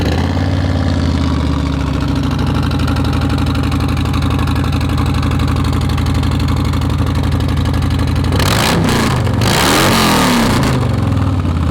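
A 2019 Harley-Davidson Electra Glide motorcycle engine with a Screamin' Eagle tuner idles with a deep, throbbing rumble, then revs hard in several loud, sharp bursts near the end.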